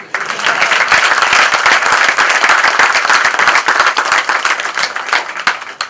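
Loud, dense applause from an audience at an international taxation Q&A meeting of chartered accountants, steady clapping from many hands filling the room for several seconds.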